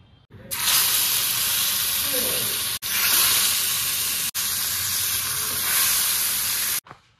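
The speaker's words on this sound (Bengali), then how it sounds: "মাছটা ভেজে ফেললাম" Loud, steady sizzling of fish frying in hot oil, a dense crackling hiss that runs continuously with two brief dropouts.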